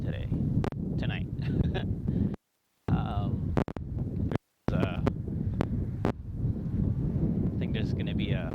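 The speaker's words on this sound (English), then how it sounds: "Unfortunately, it's extremely windy tonight." Strong outdoor wind buffets a wireless lavalier microphone at night, a steady low roaring rumble with brief dropouts, heard under someone talking.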